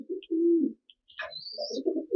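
Pet pigeons cooing close by, a few low, throaty coos with short pauses between them, plus one brief higher chirp. No one speaks.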